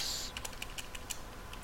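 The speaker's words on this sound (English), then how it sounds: "And then reason, I'm going to type Exchange" Quick, irregular keystrokes on a computer keyboard, about eight or nine light taps in under two seconds, faint and close over a steady background hiss, with no voices.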